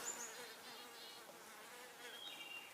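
A fly buzzes close by outdoors in a woodland setting, a steady insect drone with brief whining peaks that rise and fall over a few seconds, with no talking.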